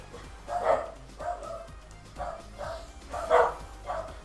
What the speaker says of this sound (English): they're not barking aggressively enough to be any of our neighbours